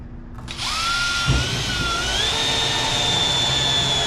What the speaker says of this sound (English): let's go ahead and drill this one